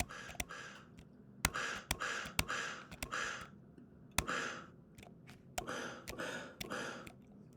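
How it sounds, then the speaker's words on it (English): A sampled breath plays back in music software as a series of short, close breathy puffs and gasps with sharp clicks, in an uneven, percussive rhythm. "Maybe I'll use this little breath that we found and make that a bit of a pitched instrument."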